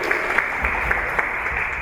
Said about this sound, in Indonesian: Tepuk tangan untuk kita semua, teman-teman.